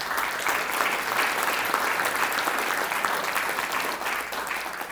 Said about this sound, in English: if we can give them a round of applause, I'd appreciate it